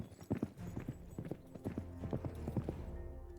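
Clip-clopping horse hooves trot in a steady, close rhythm on hard ground in the Sherlock Holmes: Crimes and Punishments video game, with a soft whinny near the start.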